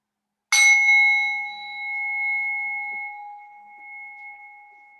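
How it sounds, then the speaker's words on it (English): A single bell is struck once to open a yoga session, a bright clear strike followed by a long, pure ringing tone that slowly fades over several seconds in an otherwise quiet room. "we'll start at the sound of the bell"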